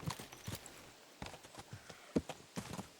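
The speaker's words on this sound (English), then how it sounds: "Hey, what if I push the horse away from him?" Horse hooves clip-clopping at a walk in the medieval video game Kingdom Come: Deliverance 2, a steady series of hollow knocks at moderate distance over faint ambient noise.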